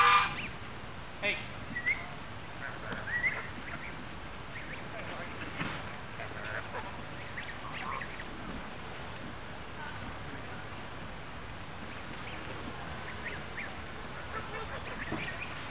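Several geese feeding on turkey scraps outdoors give scattered honks and quacking calls, louder at the start and then thinning into faint intermittent calls over a steady background hiss.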